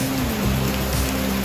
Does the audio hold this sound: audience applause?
no